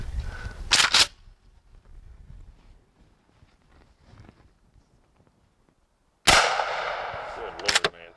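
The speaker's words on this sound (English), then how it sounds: "I think it's pretty cool shooting out of the KSG" Aquila mini slug shotgun shots from a KSG: a loud sharp blast near the start and another burst with rattling echo around 6.3 s, with quiet shuffling and faint sounds between.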